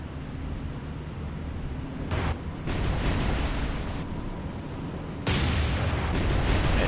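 Naval ship guns fire in War on the Sea during a Tokyo Express battle, heavy booming blasts and rolling rumble, loud and dense, with no talking.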